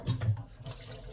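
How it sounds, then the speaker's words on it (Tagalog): A cloth rag is rinsed under a running faucet, giving a brief, close splash and gurgle of tap water over a sink, with no one speaking. "So, binabanlaw-banlaw ko"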